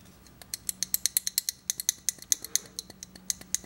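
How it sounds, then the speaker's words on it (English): Rapid clicking and snapping from the loose blade pivot of a Stedemon Deep Sea Monster folding knife, about two dozen sharp, close ticks in an uneven rhythm, heard alone. "That is the sound of a loose pivot."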